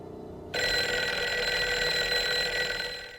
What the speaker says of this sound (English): Dead, and then the phone rings.